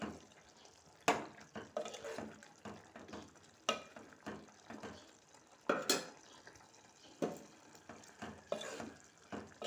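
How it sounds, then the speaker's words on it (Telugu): Chili powder being stirred into a potato curry in a pan, with quiet, irregular scraping and clattering strokes of a spoon against the pan, each followed by a short pause. "కారం వేసుకొని కలిపేసుకోవాలి"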